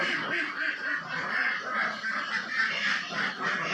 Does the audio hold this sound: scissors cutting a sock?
no